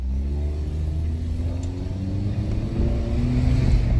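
Peugeot 2008 with a 1.6 naturally aspirated engine revving hard, a steady low engine drone rising gradually in pitch and loudness, heard alone without talk.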